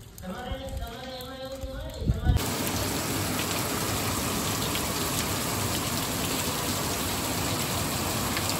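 Heavy rain pours down steadily as a dense, continuous hiss that starts suddenly after a few seconds of quieter sound and then stays loud and even to the end.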